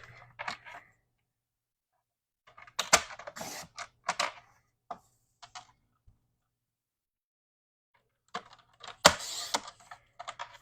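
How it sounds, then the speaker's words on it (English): Crisp clicking slices from a paper trimmer cutting card stock for the inside of a handmade card, coming in two short bursts with a quiet pause between them. "Using my paper trimmer, and I'm just trimming down the inside of the card real quick."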